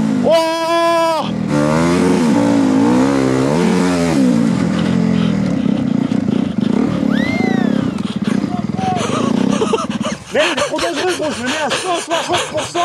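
Turbocharged motocross dirt bike revving hard, its rising and falling engine whine pushed through repeated throttle blips and surges, loud and close, with voices talking over parts of the run.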